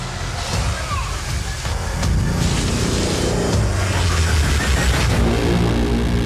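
A moving car passes close during stunt filming for a Brazilian movie, giving a loud, steady roar of engine and rushing road noise with some splashing texture throughout, and no clear speech.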